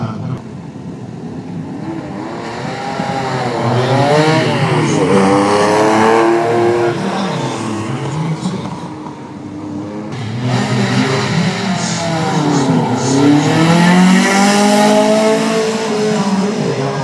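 A Subaru rally car roars past on a tarmac rally stage at Targa West, its engine loud and close, revving and swelling as it approaches and fades over a sustained, continuous pass.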